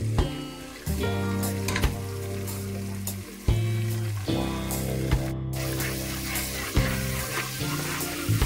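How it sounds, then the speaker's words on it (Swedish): Aubergine, red onion and garlic frying in oil in a pan, a close, steady sizzle punctuated by scraping and stirring clatter, with no talking. "Stek detta i cirka en kvart kanske."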